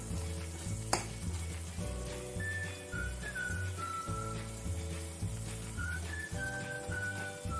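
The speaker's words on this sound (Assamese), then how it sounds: "মই এতিয়া শুকান জলকীয়া দুটা দি দিলোঁ আৰু দিয়াৰ পিছত আমি আকৌ অকণমান লৰাই দিম" Two dried red chillies sizzle in hot oil in a pan while being stirred, a steady crackling fry with a sharp scrape near the start and rhythmic spoon movements, accompanied by a whistling tone and light background music.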